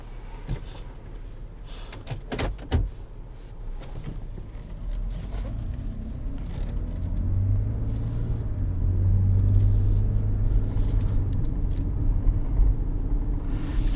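A 2018 Toyota Highlander XLE V6 pulling away and driving, heard from inside the cabin: a few clicks and thumps at first, then a low engine and road rumble that builds steadily.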